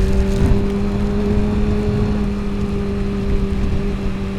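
A supersport motorcycle ridden through a tropical cyclone, its engine droning loud and steady up close, with strong broadband wind and road roar and no voices.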